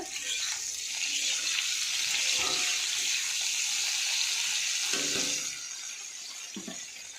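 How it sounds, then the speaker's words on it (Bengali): Water pours steadily into a pot of cooking dal, a continuous splashing rush that stays loud for several seconds, then eases off near the end. "ডালে একটু জল দেবো।"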